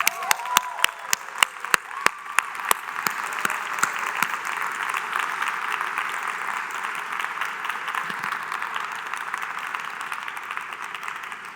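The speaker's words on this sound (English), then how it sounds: "let's give her a big round of applause again" An audience applauds the winner of an innovative tradecraft competition at a geospatial intelligence conference. A few isolated claps open the sound, then it swells into sustained, full applause that holds steady and fairly loud to the end.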